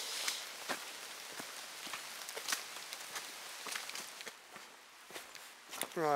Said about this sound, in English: I think the rain has eased off a touch,